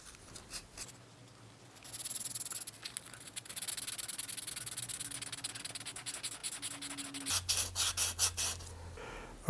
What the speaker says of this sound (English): I've got some rough grit sandpaper, and I'm just going to do the whole edge